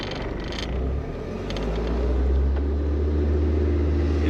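A Nissan 300ZX with a swapped KA24DE engine drives in first gear, its low engine drone loud and steady inside the cabin and rising slightly as it pulls, with no talk.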